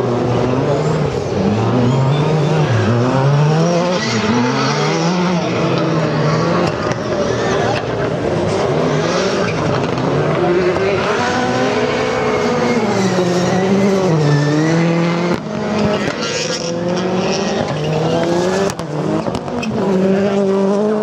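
Touring-class cars at a European autocross championship heat in Seelow, engines revving and rising and falling in pitch as they race past, with tire squeal and skidding and a loud continuous roar throughout.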